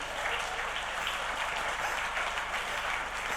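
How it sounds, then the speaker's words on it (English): A crowd claps continuously, a dense and even wash of applause that holds steady throughout. "Please applaud this talented lady"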